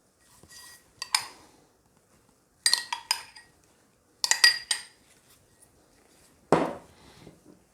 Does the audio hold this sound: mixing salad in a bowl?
yes